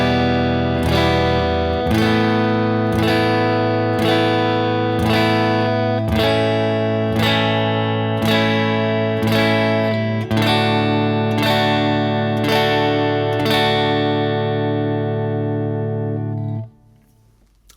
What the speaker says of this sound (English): We're going to take each chord and we want to play 4 strums on each one.